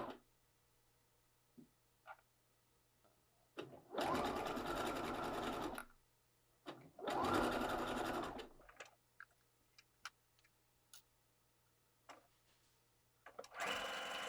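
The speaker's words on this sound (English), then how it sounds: "I'm using a sewing machine to show you the difference. I have it set on a slight zigzag." A sewing machine set to a slight zigzag whirs through two short bursts of stitching, each a few seconds long, separated by quiet pauses with a faint hum and small clicks.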